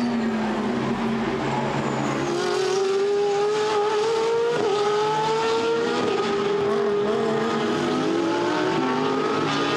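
A GT race car at full speed through the final corners during Blancpain GT Sports Club qualifying at Misano in 2016, its engine note loud and close, climbing steadily through the gears with a brief shift blip midway.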